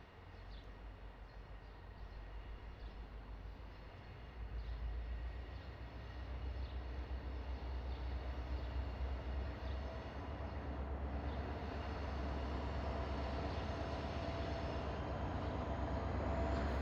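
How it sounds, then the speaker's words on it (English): A CSX freight train creeps along far off, a steady low rumble that slowly swells over many seconds, distant and continuous with no voices. "There's our train in the distance, slowly creeping along."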